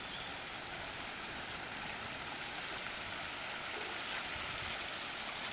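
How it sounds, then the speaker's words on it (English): A continuous rushing of falling water fills the background, a steady hiss and splash with no voices. "got ivy and got the waterfalls everywhere"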